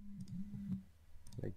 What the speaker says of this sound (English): press control key, hold and click